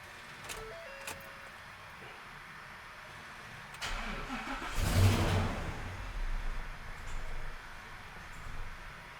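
A Ford 6.2 engine with a bad MAF sensor cranks and fires with a brief rising rev, then runs roughly and fades as it stalls, heard fairly close with faint background clatter.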